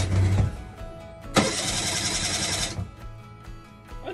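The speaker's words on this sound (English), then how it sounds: "Okay, the engine works." A starter motor cranks an engine on a boat, a loud whirring start burst in the middle that settles into a steady, close idle.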